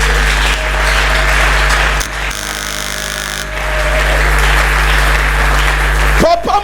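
A church congregation at a Sunday service applauds and cheers loudly for God, dense clapping over a steady hum, with a voice briefly rising near the end.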